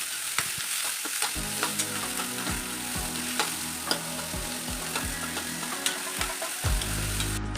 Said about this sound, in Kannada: ಎರಡು ಬೊಕ್ಕ ಶುಂಠಿ ಬೆಳ್ಳುಳ್ಳಿ ಬೊಕ್ಕ ನೀರುಳ್ಳಿ ಪಾಡ್ದು ಸರಿ ಕೆಂಪನ ಮುಟ ಫ್ರೈ ಮಲ್ಪೊಡು